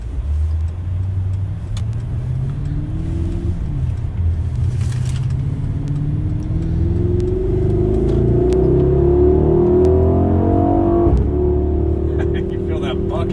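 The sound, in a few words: Mercedes-AMG GLS 63 accelerating hard from a standing start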